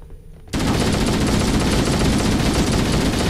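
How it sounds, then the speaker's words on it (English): Rapid automatic gunfire in Halo: Combat Evolved blasts in abruptly after a moment of near-quiet, a loud, dense, continuous burst of shots fired into a dead body. "I can just shoot a dead body"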